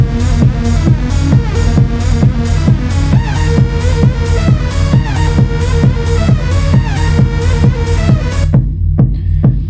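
Techno track playing loud, with a driving four-on-the-floor kick and layered synth stabs that cut out near the end, leaving only the kick pounding.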